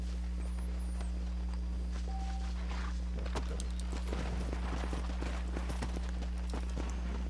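Horse hooves in the Red Dead Redemption video game, a faint, irregular clip-clop of a horse moving over ground beneath a steady low hum and game ambience, with no speech.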